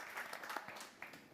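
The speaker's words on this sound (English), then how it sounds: "Can we have a round of applause for the speakers?" Conference audience applauding the speakers after an e-commerce innovations panel, a short, thin burst of scattered clapping heard from a distance at modest volume.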